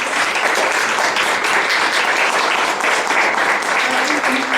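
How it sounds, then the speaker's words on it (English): An audience applauds the panelists at a CSW69 panel on resilience, empowerment and gender-based violence. The clapping is sustained, even and fairly loud throughout, with a faint voice under it near the end. "We can give a round of applause to them."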